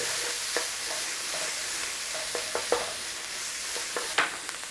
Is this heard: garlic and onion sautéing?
yes